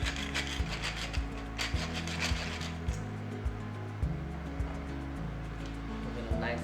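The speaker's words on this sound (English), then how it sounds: "Give it a nice mix." A spoon scrapes and rubs through spiced beans with taco masala and pepper in a pan, soft repeated stirring strokes heard close up under background music.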